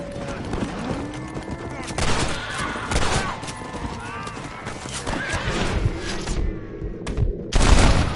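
Frontier gunfire crackles in Red Dead Redemption, several sharp shots mixed with a horse's whinny and clip-clopping hooves, with in-game voices talking over parts of the scene.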